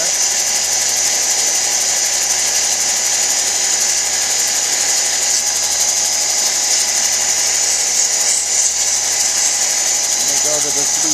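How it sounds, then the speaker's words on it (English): The back of a chrysocolla cabochon is pressed against a spinning sanding wheel, a loud, steady motor whine with a gritty hiss that runs without a break, close up. "Need another moment or two to sand the back and we'll polish."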